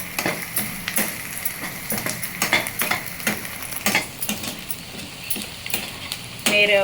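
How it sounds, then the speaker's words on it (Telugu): Onion browns in a pan for brinjal chutney, with a soft sizzle beneath a steady run of sharp scraping and tapping as a utensil stirs against the pan. "ఇదిగోటి ఫ్రెండ్స్ చూడండి ఉల్లిపాయ వేగుతున్నది"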